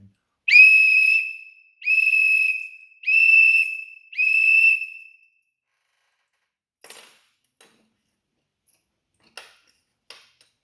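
A whistle is blown in four loud, sustained blasts of about a second each, followed by a few faint scattered clicks and taps.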